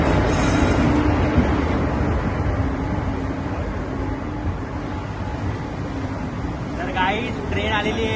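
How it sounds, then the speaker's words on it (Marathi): A train arrives at Dadar station with a steady, loud rumble that carries through the whole stretch. Some faint voices may come through near the end. "ट्रेन आलेली आहे"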